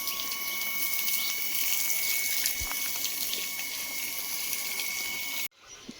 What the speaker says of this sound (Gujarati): પછી આપણે મંડી ગયા મકાનમાં પાણી છાંટવા.